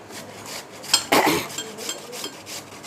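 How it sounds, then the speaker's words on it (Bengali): Watermelon rind being grated by hand, a few rough rasping scrapes with a louder stroke near the middle, close and alone without talking. "আমি এই তরমুজ ঘষে নেই"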